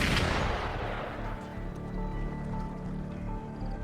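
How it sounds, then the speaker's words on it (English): Video game gunfire opens with a loud, sharp blast burst that decays into a rumbling, echoing tail, followed by steady low background drone. "Gunfire! We've got intruders."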